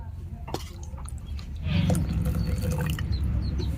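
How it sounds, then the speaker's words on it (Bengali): Warm water poured into a freshly washed mixer grinder jar used for rice flour paste, a close, steady liquid splash and fill that swells midway and continues to the end, with faint handling noise before it. "এখন আমি মিক্সি জার ধুয়ে একটু উষ্ণ গরম জল দিয়ে দিচ্ছি।"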